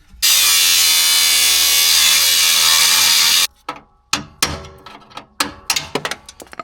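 A power tool cuts through a strained metal part in a workshop, a loud continuous grinding whine for about three seconds that stops abruptly, followed by scattered metallic clanks and knocks.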